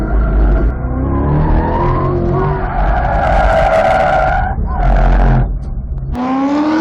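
A C8 Corvette on an autocross course on Toyo tires, its engine revving and shifting while the tires squeal loudly through tight turns, close and continuous throughout the run.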